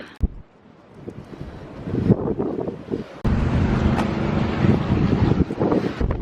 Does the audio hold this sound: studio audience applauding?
no